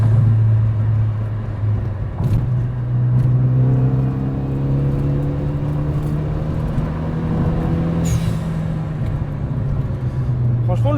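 A Renault Mégane 3 RS engine hums on the road with steady revs, and brief sharp puffs that fit its dump valve come between gear changes, while people talk in the car.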